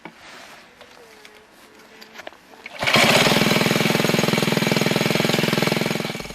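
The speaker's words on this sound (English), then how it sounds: "converted a dependable motor mower engine into a reliable winch by fitting it with a sturdy cable and clutch" A motor mower engine converted into a mine shaft winch, with cable and clutch, starts up partway through after quieter mechanical clatter, then runs as a loud, close, steady rapid chugging that holds to the end.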